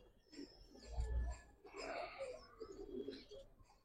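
A single prized game pigeon, one of a group of Giribaz and coloured pigeons, gives a soft, low cooing burst near the start, followed by quieter rustling and faint chirps close by.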